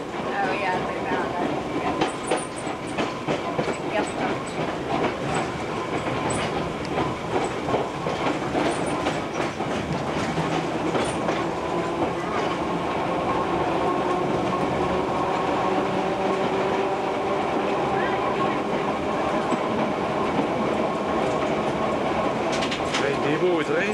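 An old Montreal tram rolls steadily along the rails with a continuous rumbling clatter and occasional wheel squeal, close by, with voices speaking faintly underneath.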